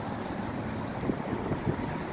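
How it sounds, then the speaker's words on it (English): Wind blowing outdoors on a mild day in South Carolina, a steady broadband rush with a few stronger gusts buffeting the microphone, no voices present. "A little windy in South Carolina."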